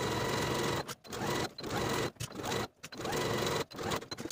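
A sewing machine stitches across a tote bag strap seam at a 3/8 inch allowance, running in steady whirring bursts with short pauses between them, close and alone.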